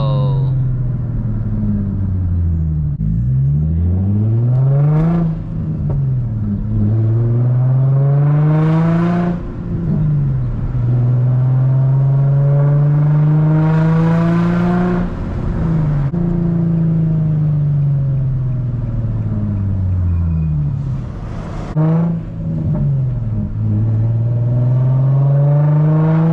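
An Infiniti G35 with a 6-speed manual and muffler and resonator delete being driven, its loud raspy exhaust rising in pitch through repeated accelerations, dropping sharply at each gear shift, heard from inside the car.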